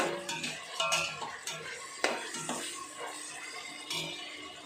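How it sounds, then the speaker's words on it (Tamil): Ginger garlic paste is stirred in a pan for chicken biryani, with a metal spoon scraping and clinking irregularly against the pot over a faint sizzle, close and fairly quiet. "இஞ்சி பூண்டு பேஸ்ட்டு போட்டு நல்லா வதக்கணும்."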